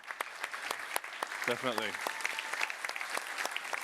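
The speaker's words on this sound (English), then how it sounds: "We have to give Peter a round of applause." Audience applause fills a conference hall at Security Fest 2024, a steady crackling wash of many hands that continues under a brief spoken remark from a single voice.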